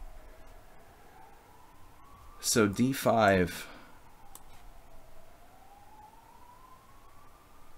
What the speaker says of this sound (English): this ambulance is driving me nuts here